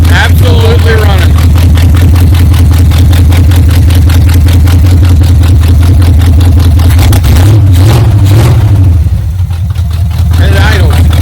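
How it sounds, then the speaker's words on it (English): A 1978 Chevy K10 truck engine, freshly revived after sitting for years, idles in a steady low rumble with a brief throttle blip midway, loud and close throughout, with someone talking over it. "And it idles."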